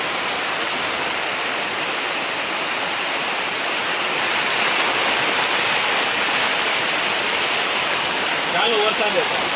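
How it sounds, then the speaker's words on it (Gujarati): Heavy rain pours steadily during outdoor work on a temple's tiled floor, a dense, even wash of noise that runs the whole time, with a brief voice near the end. "એવો વરસાદ આવે છે"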